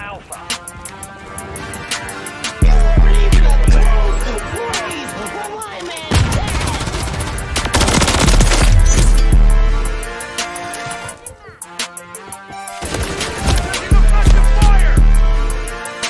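Rapid Rival-9 SMG bursts in Modern Warfare 3 gameplay come in loud, dense volleys separated by short pauses, set against other game sounds and music. Someone talks over the firing.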